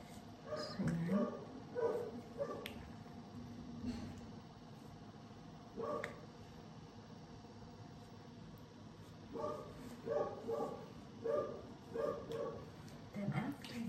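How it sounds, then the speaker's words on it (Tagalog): A household dog barks repeatedly in the background indoors, short yelping barks scattered across the stretch, under someone talking. "Ingay ng aso namin."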